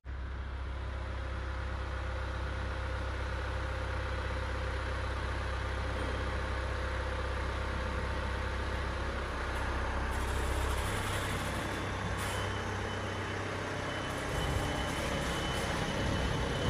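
A car engine drones at low volume from inside the cabin while driving in slow traffic toward Seoul, a steady muffled hum with no voices.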